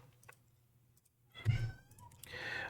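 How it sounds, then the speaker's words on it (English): A house cat lets out a loud, drawn-out meow nearby, followed by a shorter, fainter cry, with soft clicks and quiet room noise before it. "my cat Bailey is just like yelling now"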